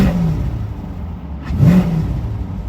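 A 2025 Corvette C8 in touring mode idles with a low, steady hum, then blips once into a short, rising rev before easing back down.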